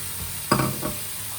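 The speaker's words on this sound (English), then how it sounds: "So the soya granules have been on the heat for about 2 minutes now. I'm just going to add the chopped tomatoes" Soya granules and chopped tomatoes being stirred in a hot pan, with a soft sizzle and two brief scraping stirs standing out close over a steady low frying hiss.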